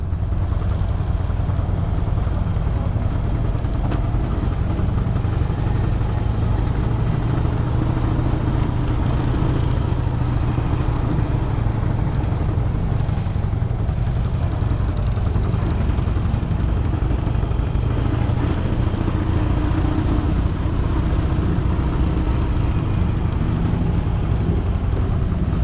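Three Harley-Davidson motorcycles fitted with sport exhausts rumble at idle outdoors, a loud, steady low-pitched engine drone that continues without a break and with no voices heard over it.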